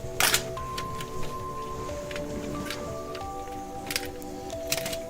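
A plastic PlayStation controller shell popping open after four screws are removed, giving a few sharp, close plastic clicks and snaps spread out over a steady background of soft music.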